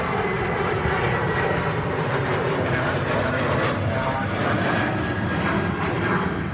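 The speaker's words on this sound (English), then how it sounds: "Another awesome departure coming right up the Singapore Airlines as the KLM takes off back to Amsterdam." A KLM airliner taking off for Amsterdam, a steady broad roar of engines at some distance, continuous and unbroken for several seconds with no talk.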